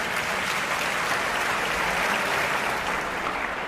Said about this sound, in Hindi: आलोक जी ने मुझे यहां आमंत्रित किया, तो इसके लिए आलोक जी के लिए तालियां।